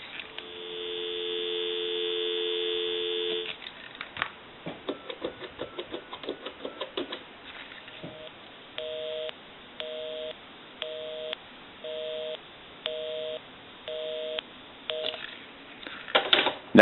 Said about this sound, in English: We can also call my number, and it'll be busy. I'll give you some dial tone.